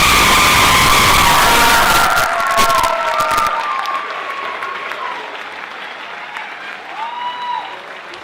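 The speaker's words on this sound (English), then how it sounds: "can we have a round of applause for Mr. Medved and Mrs. Ryan?" An indoor crowd at a high school graduation applauds two retiring teachers, a loud burst of clapping and cheering that gradually fades and thins.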